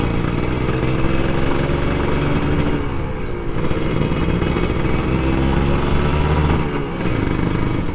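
A Kawasaki Ninja RR 150 two-stroke motorcycle engine drones loudly and steadily on a night ride through Jakarta, its revs rising and falling slightly with the throttle, close and continuous with wind noise.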